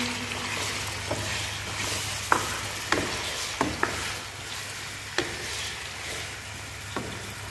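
Meat browns in a pot with a steady soft sizzle, broken by several sharp clinks and scrapes of a spoon stirring against the metal.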